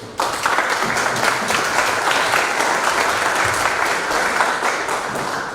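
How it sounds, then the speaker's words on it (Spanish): An audience at a history conference in Peru breaks into loud, sustained applause, dense clapping from many hands that holds steady for several seconds with no voices over it. "Fuertes palmas, por favor."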